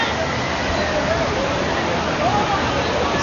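Natural water streaming down from the valleys of Kashmir, a steady broadband rush that holds evenly throughout, with faint voices murmuring underneath.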